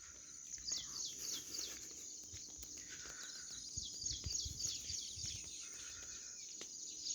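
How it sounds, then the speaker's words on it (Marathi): A mix of birds sings in the early morning beside a sugarcane farm in a rural village, with repeated high chirps and tweets over a steady insect hum at moderate distance. "पक्ष्याच्या आवाज आवाजाचं जे संगीत ऐकू येते सकाळी सकाळी"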